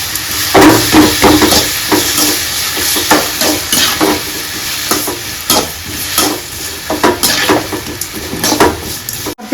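Mushroom kulambu with vegetables sizzles in oil in a pan while a spoon stirs it, giving close scraping and clinking strokes over a steady crackle.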